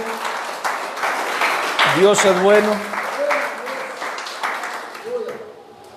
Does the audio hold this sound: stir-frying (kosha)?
no